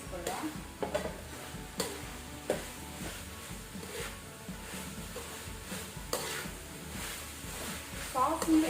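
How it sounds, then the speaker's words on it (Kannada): Fried prawns tossed in a pan with chilli sauce, sizzling steadily while a spoon scrapes and stirs in repeated strokes, close up, with faint talk underneath. "ಆನಂತರ ನಾವು ಫ್ರೈ ಮಾಡಿಟ್ಕೊಂಡಂತ ಪ್ರಾನ್ಸ್ ಅನ್ನು ಸಹ ಸೇರಿಸ್ಕೊಳ್ಳುವ."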